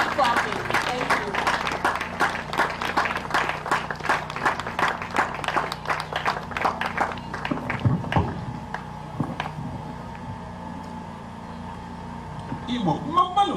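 An audience claps to welcome a speaker to the stage at a live Igbo advocacy event. Brisk clapping fills the first half, then fades as a voice begins speaking.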